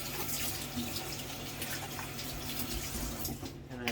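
Large cabbage leaves are rinsed under a running kitchen tap, a continuous close rush of water splashing steadily over the leaves for a few seconds with no talking.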